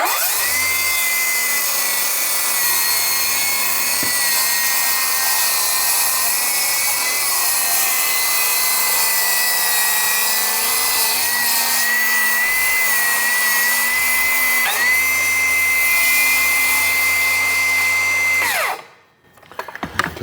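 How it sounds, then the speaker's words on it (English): An oscillating saw cuts through a vinyl floor plank that has a tongue-and-groove locking system, giving a steady, loud, high-pitched buzzing whine that lasts about 19 seconds and then stops abruptly. No one speaks. "I'm going to finish that off with an oscillating saw"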